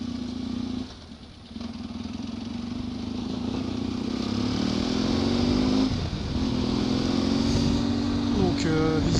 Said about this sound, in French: Je suis amoureux du son de cette moto.